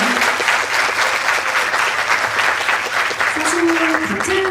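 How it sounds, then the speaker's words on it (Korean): A film audience at a post-screening Q&A applauds, giving steady, dense clapping throughout with faint voices underneath. "두 분이 부끄러우실 테니까 박수 한 번만 보내드릴게요."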